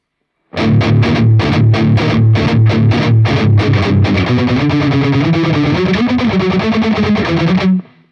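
Heavily distorted electric guitar plays the pre-chorus in standard tuning: loud rhythmic chugging power-chord stabs in the first half, then a sustained, busier riff running steadily to the end, with no talking.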